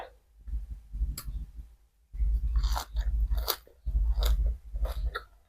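Close, crunchy chewing of pounded giant squid tentacle salad dipped in sauce, in several bursts of wet, rhythmic bites separated by short pauses.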